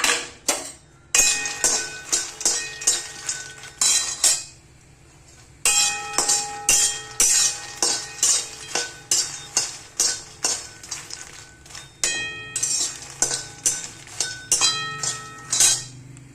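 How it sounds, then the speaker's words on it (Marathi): Fox nuts (makhana) are dry-roasted in a metal pan for dry-fruit laddu, making bursts of close, bright rattling and clinking as the spoon stirs, with short pauses between strokes. "आता हे हलकेशे मखाने भाजून घेते"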